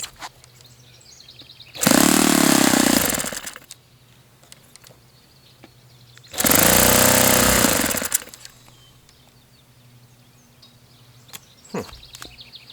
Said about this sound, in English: I've never had a Saito engine act like this, especially not one of these.